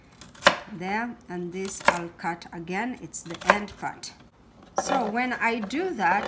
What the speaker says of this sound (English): I will hold them like this together and chop.